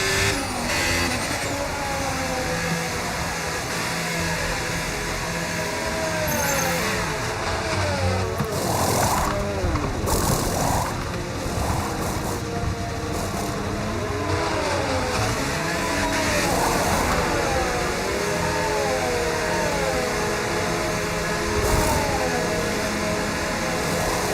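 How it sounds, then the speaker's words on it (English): Formula 1 cars in the F1 25 video game race at the British Grand Prix, with engines continuously screaming and revving, rising and falling pitch sweeps as cars pass and shift gears, and occasional tyre noise throughout. "Hamilton gets another slipstream all the way down the old pit straight into Copse Corner"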